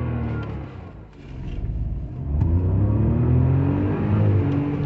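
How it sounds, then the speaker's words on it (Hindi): Hyundai i20 N-Line with a 1.0-litre turbo petrol engine and 7-speed DCT revving toward 5000 rpm, a steady mid-pitched engine drone that dips briefly and then climbs and holds, heard close from inside the car. "Okay, again vehicle revs 5000 rpm exact"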